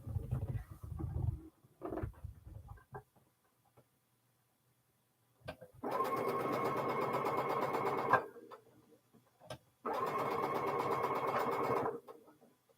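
A sewing machine joins quilt rows in two sustained stitching runs, each a few seconds long and steady, close by, with brief handling noises of fabric between them.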